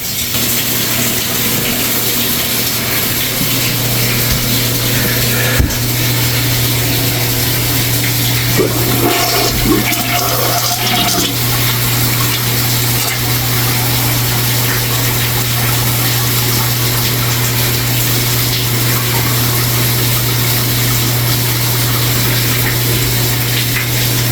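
A toilet flushes after a sewer blockage was cleared with a toilet auger, giving a steady rushing water sound with a constant low hum throughout, close and fairly loud, with a brief gurgle midway and no talking.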